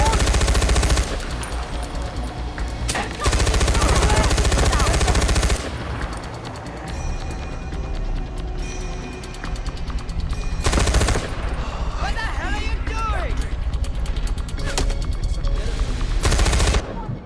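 Far Cry 4 gameplay on PS4 delivers heavy, continuous automatic gunfire with bursts of machine-gun fire and loud shots throughout, dense and close, with brief lulls between volleys.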